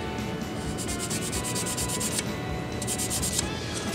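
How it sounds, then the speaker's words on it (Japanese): Repeated rhythmic rubbing strokes of a fine Sujiborido magic file sanding a plastic part of an ITALERI 1/12 Abarth 695 SS model car, close and steady with brief pauses. "で使うのは、いつものように筋彫り道のマジックヤスリ、これを使ってやっていきましょう。"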